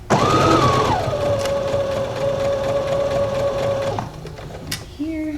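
A sewing machine stitches a men's shirt seam in one continuous whirring run of about four seconds, close and loud, then stops; a voice speaks briefly near the end.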